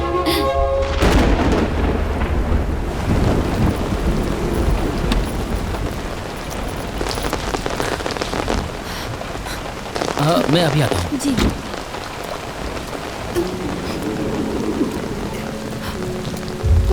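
Heavy rain pours steadily onto surfaces with rolling thunder rumbling through, while people talk briefly over the downpour and a soft musical tone enters near the end.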